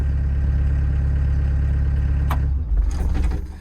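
A Doosan DX225 excavator's engine idles just after starting, a loud, steady low rumble close by that shifts and roughens near the end as the pitch changes.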